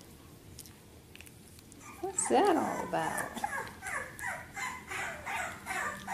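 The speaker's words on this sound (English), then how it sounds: "Was that a bark I heard?" A bulldog lets out a short, high, whiny yip-like bark nearby, followed by softer whimpering noises while a person talks over it.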